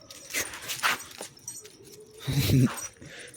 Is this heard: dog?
yes